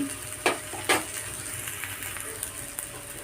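A teaspoon of chili powder goes into a breadfruit and jackfruit-seed roast and is stirred in. A steady close sizzle of frying runs under two sharp spoon-scraping strokes and lighter stirring clicks, with no talking.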